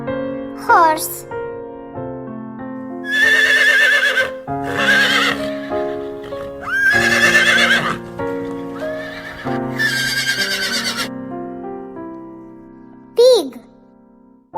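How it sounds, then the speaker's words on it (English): A horse whinnies sharply at the start and again near the end, with a lilting tune and voices filling the stretch between. "Horse."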